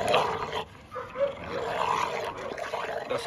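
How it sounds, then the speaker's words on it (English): American Bully dogs, an XL and a Pocket, bark and yip while playing with a ball outdoors; the barks are faint and somewhat distant, in short bursts over light background noise. "That's an XL American Bully"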